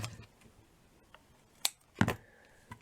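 Scissors snip through crochet yarn at close range, with two or three quick, crisp cuts spaced over a few seconds in an otherwise quiet room.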